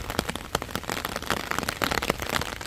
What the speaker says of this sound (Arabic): الدنيا عم تمطر مثل ما نكون شايفين، صارت تمطر